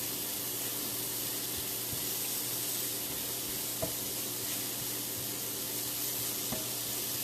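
A pan of beef stroganoff with cremini mushrooms gives off a soft, constant sizzling hiss, with a couple of faint clicks as it is stirred, and no talking.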